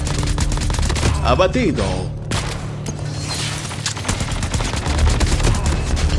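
Rapid bursts of rifle fire in a battle royale-style shooter, loud and close, several volleys with a brief lull in the middle, while someone speaks over the shots.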